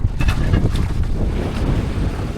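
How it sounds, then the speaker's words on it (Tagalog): Strong wind buffeting the microphone over the wash of waves near an island, a loud, rough, continuous roar without any voices. "Lumalakas na kasi yung hangin at saka alon dito."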